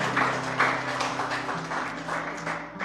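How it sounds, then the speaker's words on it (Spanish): Applause from a Spanish-speaking church congregation at Calvary Chapel San Jose rolls on steadily for about three seconds, with a sustained musical tone underneath. "Un aplauso al Señor."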